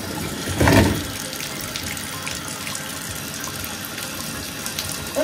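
Water poured onto a block of frozen ice holding toy monster trucks and dinosaur eggs, a brief splashing gush near the start and then a steady trickling flow.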